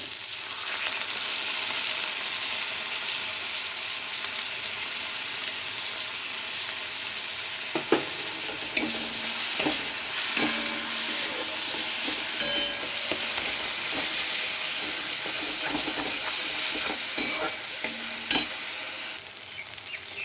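Spice masala with whisked yogurt and Kashmiri chilli frying in oil in a pan, a dense, steady sizzle throughout with occasional clicks and scrapes of stirring.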